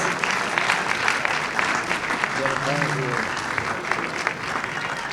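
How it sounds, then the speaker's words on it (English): A ballroom audience at a Greek Independence celebration gala at the Ziegfeld Ballroom bursts into sustained, loud applause for an honoree. The clapping runs continuously, and a voice briefly speaks over it partway through. "a warm round of applause for Christoforos Papagaliatis"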